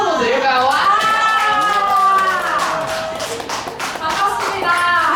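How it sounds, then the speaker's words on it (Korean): A Sunday church service audience claps to welcome a teacher walking in. The clapping is steady and dense, and excited voices and cheering sound over it the whole time. "우리 멋진 선생님 한번 들어오시는데 우리 박수 한번 드릴까요?"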